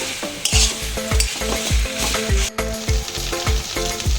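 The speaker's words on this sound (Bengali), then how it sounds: "এবার আমি নেড়ে চেড়ে নিচ্ছি" Taro greens with crab and sugar sizzle steadily in a hot pan as a spoon stirs them, with regular scraping strokes about twice a second over the continuous frying hiss, close and fairly loud.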